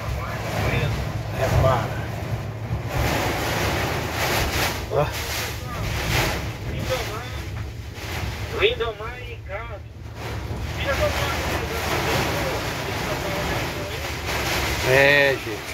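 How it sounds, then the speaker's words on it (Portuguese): Strong wind roars across the microphone during a sudden storm that is blowing up mud from below, gusting steadily throughout while people speak over it. "E esse barro tá vindo, o vento soprando, puxando de baixo."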